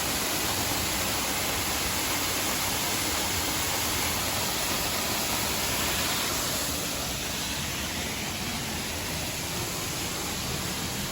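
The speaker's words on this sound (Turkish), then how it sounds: "Şu an tam şelalenin altındayız aşkım." Water pouring down from a waterfall inside a cave, a loud, steady broadband rush that fills the space without pause, close and continuous with no voices.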